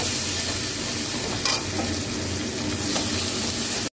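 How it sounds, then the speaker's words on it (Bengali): Spring onion greens fry in a pan with a continuous close sizzle, broken by a few scraping stirs of a spatula, and no talking. "এবার পেঁয়াজ পাতাটা আমি ভেজে তুলে নেবো।"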